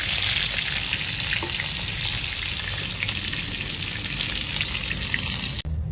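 Bhola fish fry in hot oil with a loud, steady sizzle that fills the whole stretch unbroken and stops abruptly just before the end.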